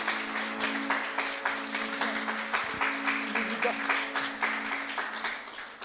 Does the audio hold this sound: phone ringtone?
no